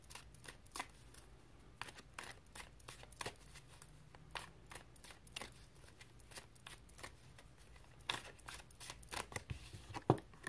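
Tarot cards are shuffled and drawn from a deck, giving a close, quiet run of crisp riffling snaps and flutters in uneven bursts.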